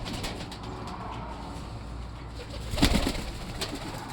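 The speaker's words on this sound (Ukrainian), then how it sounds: "Красивий голубок." A pet pigeon coos close by, a soft low murmur that swells briefly near the end over a steady background hiss, with no talking.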